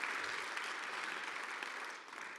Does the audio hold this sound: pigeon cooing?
no